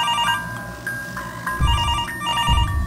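A telephone rings indoors in a repeated electronic warble with short bursts, fairly loud and close, over low rumbling background noise and no speech.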